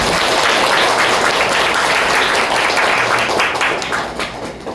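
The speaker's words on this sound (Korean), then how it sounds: "아이고 박수 한번 주세요" An audience gives a round of applause, dense and loud clapping from many hands that stays strong before tapering off toward the end.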